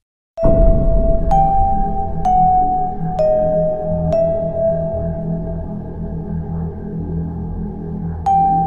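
A bright bell-like notification chime sound effect rings out several times in succession, each strike leaving a long, lingering tone that fades slowly.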